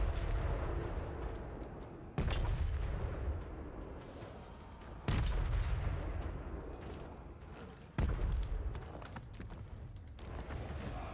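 Heavy cannon and artillery fire in a video game land battle using Grand Cannons, deep booming blasts recurring every few seconds over a continuous rumbling, crackling din of combat.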